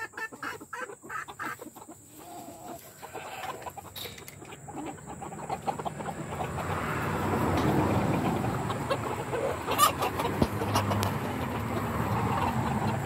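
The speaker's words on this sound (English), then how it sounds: "Hot, sticky chickens." Silkie chickens cluck and murmur in a flock during a hot, humid heat wave, with call ducks nearby; scattered close clucks over a steady outdoor background that grows busier and louder midway.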